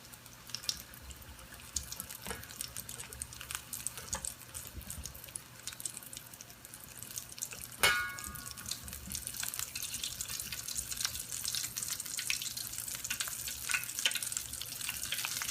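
Steady hiss and crackle of buttermilk-marinated chicken frying in hot oil, a continuous bubbling sizzle that grows slightly louder over time, with no voices.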